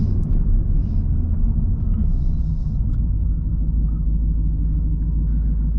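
A Ford Mustang's engine drones as a loud, steady, low rumble, heard from inside the car as it downshifts on its own through the paddle-shift gearbox, with no speech.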